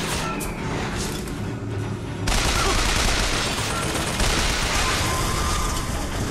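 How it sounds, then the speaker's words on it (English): Rapid gunfire in the video game BioShock Infinite, bursts of shots and a louder barrage kicking in partway through, dense and continuous over the game's background noise. "Come on, man, who's shooting at me?"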